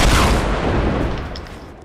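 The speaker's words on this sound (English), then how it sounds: "I'm gonna just waste those rockets" Rocket launcher fire in Fortnite, a loud, dense burst of explosive booms and rumbling that fills the whole clip and slowly fades toward the end, with no talking.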